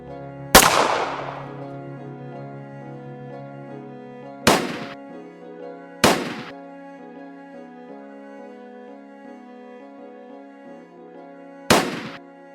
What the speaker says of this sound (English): I chose the largest one and fired the final shot